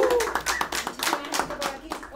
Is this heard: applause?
yes